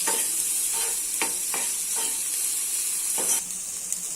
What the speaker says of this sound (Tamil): குடமிளகா நம்ம இதையும் கொஞ்சம் வதக்கிப்போம்